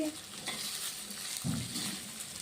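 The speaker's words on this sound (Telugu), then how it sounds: "అడుగంటకుండా ఉండడానికి ఇట్లాగా మనం టూ మినిట్స్ వరకు వే ఇట్లా వేయించుకోవాలి" Taro root pieces sizzle steadily in hot oil in a pan, with a soft scrape of stirring partway through, close and continuous.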